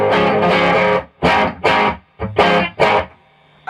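A 1978 hand-built English Burman Pro 501 guitar amp played loud with classic 70s crunch distortion, heard as gritty, saturated chord stabs in short bursts separated by brief pauses.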